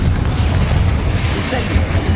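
A Confringo fire blast in Hogwarts Legacy, a loud, continuous booming rumble with crackling bursts layered over a dense low roar, in the thick of combat.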